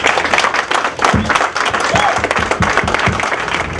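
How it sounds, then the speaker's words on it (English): Audience applause at a hip hop tribute event, a dense, loud burst of many hands clapping steadily throughout, with cheering voices mixed in. "Give her an applause."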